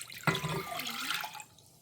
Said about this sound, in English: Our second cup of water going in.